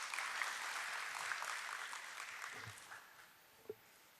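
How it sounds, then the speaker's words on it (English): Applause at a stock exchange listing ceremony, a soft, fairly distant patter of clapping that fades away, ending in a single faint knock. "A nice round of applause, ladies and gentlemen."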